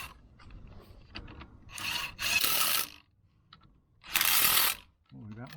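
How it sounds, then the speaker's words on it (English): A quarter-inch impact driver, a low-powered one, snugs bolts down on a Trac Loc differential rebuild, giving two loud bursts of rapid hammering close by, separated by quieter handling noise. "I'm just going to use a 1/4-inch impact driver, and a underpowered one at that, just to kind of snug these down."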